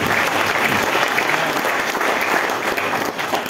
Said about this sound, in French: Let us clap for the Lord.